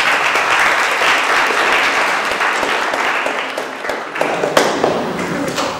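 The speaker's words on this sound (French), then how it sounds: "On peut les applaudir." A school audience gives loud, sustained applause for visiting students at an event, many hands clapping in a thick, steady roar with a few sharper claps and thumps near the end.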